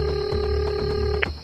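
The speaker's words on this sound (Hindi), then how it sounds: "उसने तुरंत अपनी चौकी के कांस्टेबल राणा को फोन लगाया।" A telephone rings during a call, a steady electronic ringing tone with a brief higher blip near the end, close and clear with no talk.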